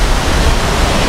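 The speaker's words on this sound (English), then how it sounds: "On this side, y'all can see that we have a waterfall." A waterfall on the rainy windward side of Hawaii gives a steady, loud broadband rush of falling water, with no talk over it.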